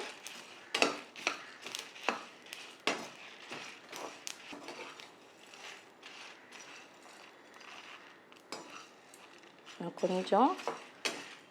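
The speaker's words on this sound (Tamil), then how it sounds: "கடலைப்பருப்பு, துவரம்பருப்பு, தனியா எல்லாமே வந்து நல்லா ஃப்ரை ஆகுது" Chana dal, toor dal and coriander seeds dry-frying in a pan, heard as faint intermittent scraping and rattling stirs with soft clinks, quiet and close, with a brief squeaky mechanical sound near the end.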